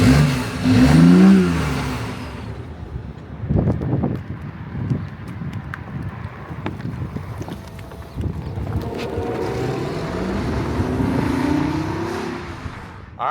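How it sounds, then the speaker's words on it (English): A 2014 BMW i8 coupe drives along and accelerates, its engine swelling and fading in surges heard from inside, with wind noise and rumble between pushes and no voices. "we're out driving the i8."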